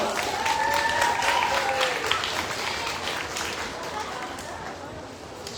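An audience at a Jackson County Fair opening ceremony claps in sustained applause, a dense crowd sound with a few whistles near the start that fades slightly toward the end.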